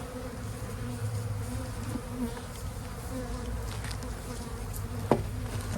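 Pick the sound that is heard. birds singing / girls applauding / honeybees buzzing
honeybees buzzing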